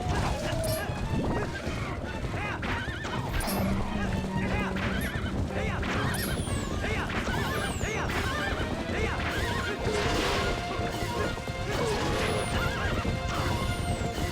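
Horses neigh and whinny repeatedly over steady hoofbeats and a busy, loud Legend of Zelda: Twilight Princess game soundscape, with a voice talking faintly underneath.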